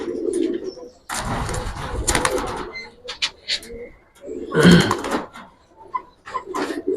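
Pigeons, including a red Dobas, coo in low soft murmurs at a bird market, mixed with rustling, handling noises and brief chirps nearby.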